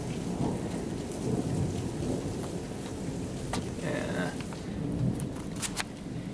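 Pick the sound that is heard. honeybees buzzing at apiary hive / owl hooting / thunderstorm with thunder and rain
thunderstorm with thunder and rain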